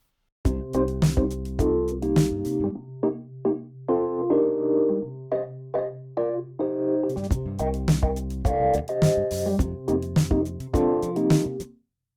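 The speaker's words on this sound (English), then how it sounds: "In my DAW, I have a part for an electric piano" An electric piano plays a chordal part with a steady bass note underneath, clean and upfront, with no other instruments or voices.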